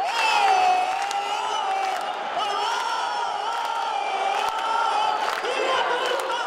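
Crowd noise fills a night of the Parintins Folklore Festival in 2016 during a women's football match, a loud sustained roar of cheering and whooping that swells and dips without pause.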